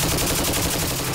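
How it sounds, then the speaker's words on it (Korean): Live rounds fired in a dense, continuous volley during special forces infiltration training against an enemy communications facility, loud and close with no pauses and no talk. "사격 신호가 떨어지자 엄청난 화력이 뿜어진다."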